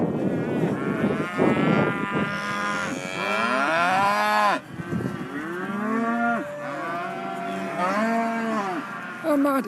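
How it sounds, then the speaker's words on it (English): Several cows moo loudly and repeatedly nearby, long drawn-out calls overlapping one another with barely a pause between them. "That's those cows."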